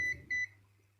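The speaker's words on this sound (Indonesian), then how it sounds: "terkadang itu terukur short atau buzzernya itu nyala" A multimeter's continuity buzzer, used while testing a cordless-tool battery BMS board for a short, sounds two short high beeps in quick succession, close and clean, followed by a quiet hum.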